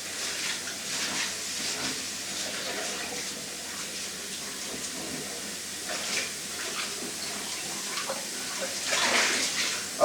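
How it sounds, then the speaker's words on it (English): Running water splashes and hisses steadily as a cast iron frying pan is rinsed under a tap, with occasional surges and no talking. "clean out my cast iron frying pan."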